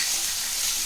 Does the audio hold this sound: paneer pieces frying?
yes